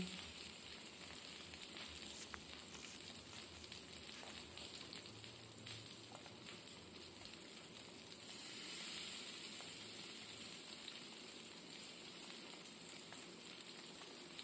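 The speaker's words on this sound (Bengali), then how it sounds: "এবার আমি মাছটা এক এক করে ফ্রাই করে নিচ্ছি" Pabda fish frying in a pan gives off a steady, soft sizzle and hiss, continuous and fairly quiet with no talking over it.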